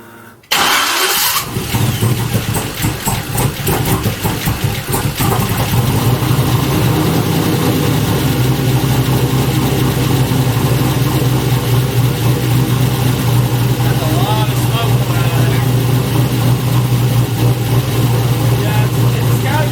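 A 4.8-litre LS V8 swapped into a Mazda Miata rumbles at a steady idle after a brief start-up burst, a loud, close, continuous low drone with people talking over it.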